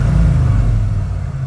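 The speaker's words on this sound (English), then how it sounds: "you can test it by giving it a little bit of gas" A 1991 Ford Bronco's engine rises briefly from a 700 RPM idle in a deep, loud mid-pitched rumble, then settles back down, heard up close with no talking.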